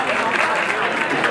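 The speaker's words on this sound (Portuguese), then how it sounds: "Aplausos para ela." Brief burst of crowd applause at a vogue ball in Belo Horizonte, steady clapping from the audience with a voice and background noise mixed in.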